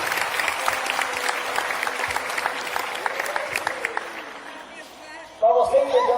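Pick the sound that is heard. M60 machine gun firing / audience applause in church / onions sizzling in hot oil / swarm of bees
audience applause in church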